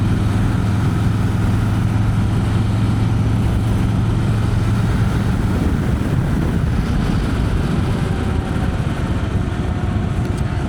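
A motorcycle cruises along the Parkway, its steady engine drone blended with heavy wind rush. The sound stays loud and unbroken throughout, with no voices.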